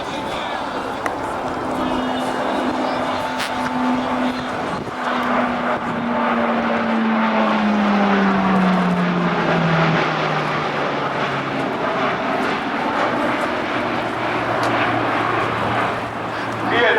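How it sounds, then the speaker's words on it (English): E-2C Hawkeye propeller aircraft making a pass at 250 knots and 400 feet during a 2008 NAS Oceana airshow: loud sustained engine and propeller roar with a falling pitch as it sweeps by, with an announcer talking over it. "Lieutenant Swanson will maneuver the E-2 for the next pass at 250 knots at 400 feet"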